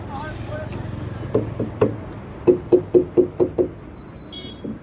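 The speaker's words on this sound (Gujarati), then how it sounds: "આપણે થોડાક ટાયર બાય ઠપ કરી લઈએ" Car tyres knocked by hand to check them at a roadside stop: two separate thumps, then a quick, even run of about six close knocks, over a low background rumble.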